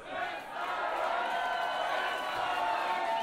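A dense crowd at a concert in Moscow roars and cheers continuously, loud and sustained, with no distinct individual voices.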